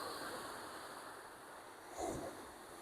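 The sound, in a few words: big ocean waves coming in on the beach at Hastings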